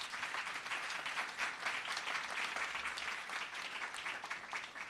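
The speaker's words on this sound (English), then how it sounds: "Let's give the candidates a nice round of applause." An audience gives a sustained round of applause for the candidates at a Broward County commissioners debate, dense, steady clapping filling the room for the full stretch without a break.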